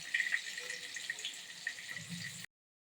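Pieces of fried paneer are put into hot salted water with soft, close splashing and trickling, which stops abruptly into silence near the end.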